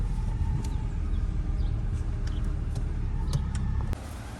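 A used car that has been sitting for a while, with rusted brakes, is driven, giving a steady low road and engine rumble from inside the cabin with faint clicks and rattles throughout.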